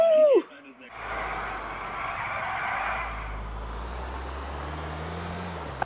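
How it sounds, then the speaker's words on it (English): A car drifting in Grand Theft Auto 4, a loud, sustained tire skid with engine roar that runs several seconds, following a brief voice at the start. "I love this drifting mechanic in this game."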